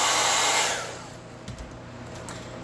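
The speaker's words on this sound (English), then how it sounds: "So then you put your blow dryer on cool." Handheld blow dryer running on its cool setting, a loud steady airy rush up close that fades down after a moment, leaving quieter room noise with a few soft knocks.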